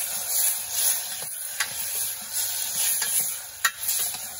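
Masala fries in a pan as a spoon stirs it, a continuous close sizzle broken by sharp scraping clicks of the utensil against the metal.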